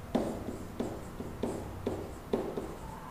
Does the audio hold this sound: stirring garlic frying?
no